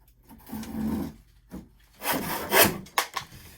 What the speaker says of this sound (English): I'm going to cut on that side of the line, this side.